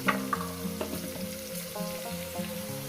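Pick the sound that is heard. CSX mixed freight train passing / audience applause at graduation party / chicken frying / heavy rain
chicken frying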